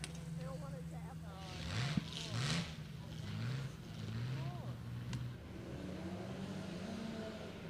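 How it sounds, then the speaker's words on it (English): Fiat X19 Prototipo replica race car with a Lola scoop pulling up to the start line at a hillclimb revival meet, its engine rising in pitch through several gear changes under steady commentary. "everybody's just heard Ian Maud come to the line in the Fiat X19 Prototypio replica with the Lola scoop on the back and the very bright paint job ready to go."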